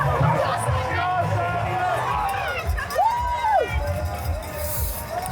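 A crowd cheers and shouts in a loud burst of voices with chatter mixed through, and one rising and falling whoop stands out in the middle.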